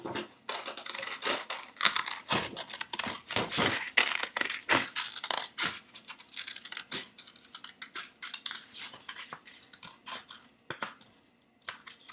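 Scissors snip around a traced paper circle for a toy house craft, giving a close series of crisp irregular cuts with brief gaps and no voices.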